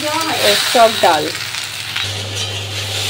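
Potatoes frying in a pan with green chilli and onion, a steady broadband sizzle running throughout with a low hum joining later; someone speaks briefly over the opening.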